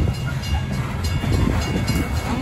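A loaded BNSF coal freight train rumbles past close by, a dense steady roar of rolling wagons with faint high wheel squeal throughout.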